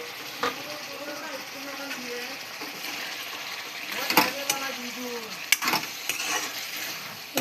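Meat frying in a pan with cooked tomatoes: a steady soft sizzle under repeated scraping and clinking of a stirring spoon, with a few louder knocks against the pan.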